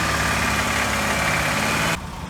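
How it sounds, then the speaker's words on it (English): A Dodge Nitro engine, recently repaired after a misfire and tailpipe smoke, idles smoothly with a steady, loud, close hum that drops noticeably in level near the end. "the engine is now running smooth"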